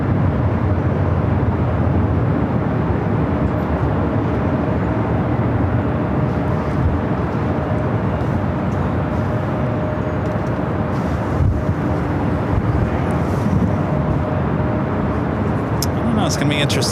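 An Airbus A330neo jet at Los Angeles airport gives off a loud, steady engine roar with a faint whine, continuous for the whole stretch, while people talk and radio chatter runs over it.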